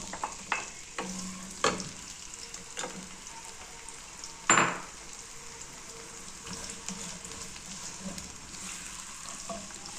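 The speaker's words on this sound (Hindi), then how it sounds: "इसमें हम अनियन को फ्राई करेंगे" Onions frying in half a cup of oil in a kadai for palak chicken gosht, a steady bright sizzle throughout with a few sharp clinks and scrapes of a spoon against the pan, no voices.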